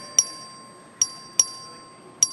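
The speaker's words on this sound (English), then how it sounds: "The clerk will ring the bell." Voting bell rung by the clerk in the Texas House chamber during a record vote: four sharp metallic dings at uneven intervals, each ringing briefly over a steady faint hum, with no talk.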